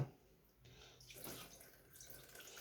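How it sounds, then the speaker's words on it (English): Petrol is poured over a 50cc carburettor to clean it, making a soft, steady splashing trickle of liquid that swells and fades, faint and close. "Chuck a bit more petrol over it."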